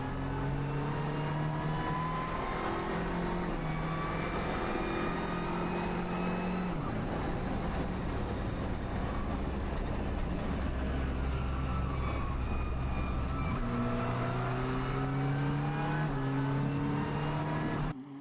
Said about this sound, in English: that engine really was cut out all the way through the turn